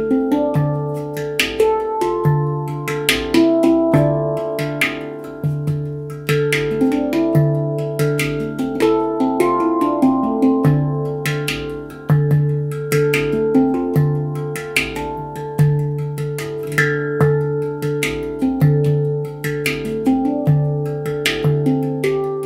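A handpan plays a simple beginner groove, ringing melodic metal tones struck in a steady repeating rhythm with sharper percussive taps layered in, close and clear with no talking.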